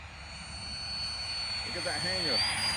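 A remote-controlled F-22 model jet passes overhead with a steady, rising whoosh of engine noise that swells toward the end, heard outdoors at moderate distance, while people chat over it.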